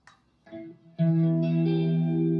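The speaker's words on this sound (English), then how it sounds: "Let's make it just clean, just chorus." Clean electric guitar tone through a Boss chorus effect: a couple of short plucked notes, then a sustained shimmering chord ringing out alone with wavering modulation.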